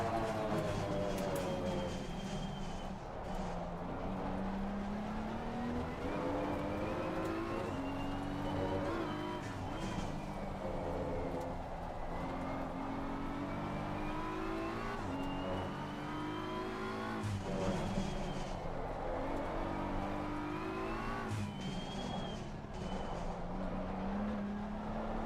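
GT race car engines in Assetto Corsa Competizione at Barcelona, heard from the cockpit as a continuous engine howl that climbs through gears, drops on downshifts and climbs again, with rivals' cars running close by.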